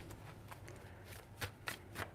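A deck of cards is riffled and shuffled by hand in a quiet room, with soft fluttering and three sharp snapping bursts near the end, close and fairly faint with no talking.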